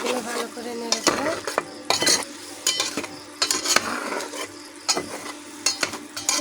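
Onions and eggs with chili powder, salt and turmeric get stirred in a frying pan, a rhythmic series of spatula scrapes and clinks over a low sizzle, close and fairly loud.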